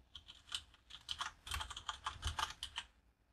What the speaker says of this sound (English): And all we're going to type is PHP info.